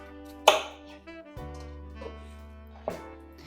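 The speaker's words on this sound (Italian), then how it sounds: "il resto lo tagliamo a cubetti" A knife chops an apple into cubes, giving a few sharp, close taps on a board, one loud cut early and a softer one near the end, over a faint steady tone.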